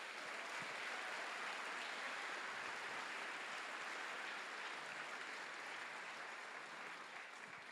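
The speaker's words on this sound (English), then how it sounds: "So will you give yourselves and the band directors here in our county a round of applause?" Applause fills a high school all-county band concert, a broad, even wash of many hands clapping at a distance, continuous and without talk.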